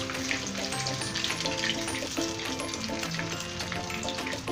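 Ghevar batter fries in hot ghee with a dense, steady sizzle and crackle, close and loud throughout, the bubbling roar unbroken and unaccompanied by talk.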